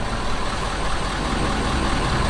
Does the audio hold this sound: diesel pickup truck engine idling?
yes